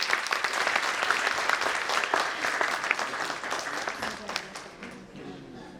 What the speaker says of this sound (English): Please give a huge round of applause for Dr. Uzma Abid Ansari